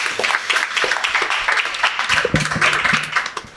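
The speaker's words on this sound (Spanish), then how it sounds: "un aplauso fortísimo para ella también" Audience applause from a studio crowd on a Spanish talk show about boats, a dense steady patter of clapping lasting a few seconds with a voice briefly audible over it.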